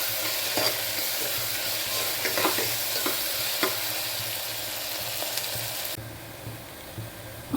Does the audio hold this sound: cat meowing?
no